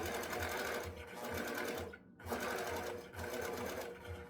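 A longarm quilting machine stitches basting lines through a quilt, humming steadily with a rapid needle rhythm, close and loud, with a brief pause midway before running again.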